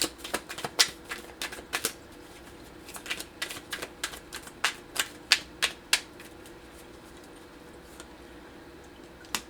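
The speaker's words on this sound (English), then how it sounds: "let's pull some journaling cards for you" Journaling cards being shuffled by hand in a quiet room give sharp, close riffling clicks and taps in irregular bursts, busiest in the first six seconds before fading to a few soft touches.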